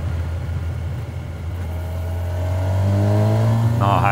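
A 2025 Kawasaki Versys 1100 motorcycle engine rises steadily in pitch as it accelerates, loud and close, with a low rumble underneath and higher harmonics climbing toward the end.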